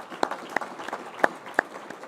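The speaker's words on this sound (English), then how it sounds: "I just want to give you a big round of applause" Light, sparse applause from a conference audience at a marketing technology summit: a handful of distinct claps over a soft background of scattered clapping.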